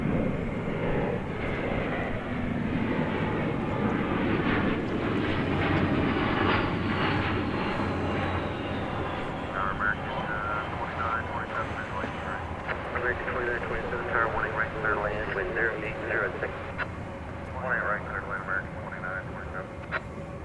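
A Spirit Airlines Airbus A320 bound for Las Vegas passes at DFW Airport, its engine roar broad and steady for the whole stretch with a slowly shifting whine, and people talk underneath.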